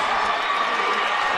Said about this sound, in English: This crowd is at a fever pitch